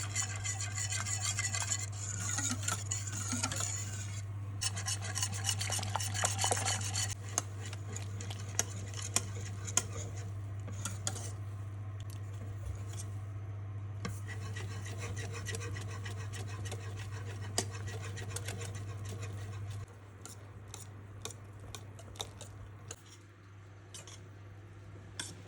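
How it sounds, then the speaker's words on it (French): An egg and cornstarch mixture is whisked steadily into hot milk for pastry cream, giving continuous close scraping and rubbing over a steady low hum, with a few sharper ticks. "je verse la préparation œuf fécule dedans et je fouette sans m'arrêter jusqu'à ce que la crème épaississe"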